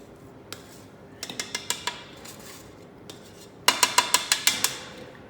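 Spatula or scraper knocking and scraping against a metal stand-mixer bowl and paddle while butter-rich pastry dough is cleared from the sides, a series of sharp rhythmic clanks in two quick bursts, close and clear.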